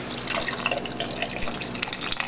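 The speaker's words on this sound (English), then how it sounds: "you start by getting your orange juice and filling it up until it covers all the ice" Orange juice poured into a glass over crushed ice, a steady close trickle and splash of liquid with bright dripping over the ice, continuous for a couple of seconds with no talking.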